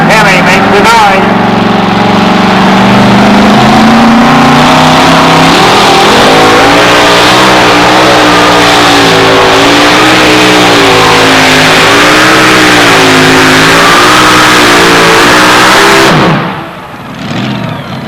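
A Hemi-powered two-wheel-drive drag racing truck at a 1991 Tomah, Wisconsin event revs loud and close in a long, wavering roar for about sixteen seconds before cutting off abruptly, with crowd noise underneath.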